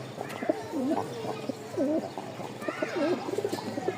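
Pigeons kept for flying coo repeatedly up close, a series of soft, throaty rolling calls with brief pauses between them over faint background noise.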